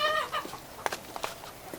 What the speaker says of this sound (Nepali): ल लिनु भाइ भाले, राम्ररी समाउनु